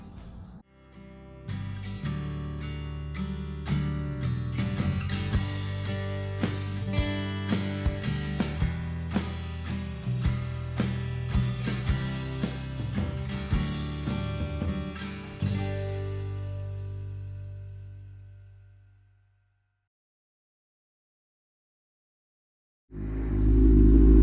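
A Suzuki SRAD 750 motorcycle engine, freshly refilled with oil, runs steadily with a rhythmic pulsing tone and loud, close revs before dying away into silence. A loud burst of noise then returns at the very end.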